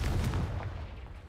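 A Confringo blasting spell going off in Hogwarts Legacy: one booming, rumbling blast, loud and close, fading over about a second.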